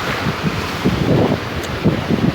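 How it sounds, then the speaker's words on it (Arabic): Wind buffets a microphone at the seaside while waves wash and break in a steady, loud rush, with rolling surges through the whole stretch. "هاي البحر"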